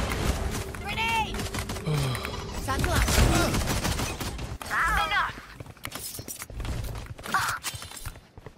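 Ghost pistol shots from Valorant team deathmatch crack out in quick sharp bursts amid game effects, close and loud, with a voice talking over parts of the action.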